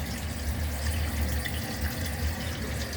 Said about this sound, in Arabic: تفتح الطبة كده، تصرف معاك المية على طول